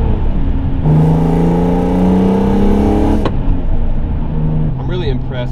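A BMW M3 Competition's engine revs up through a rising, sustained harmonic drone that cuts off sharply, followed by a quieter idle and a brief second blip; loud and close, with a person talking over it.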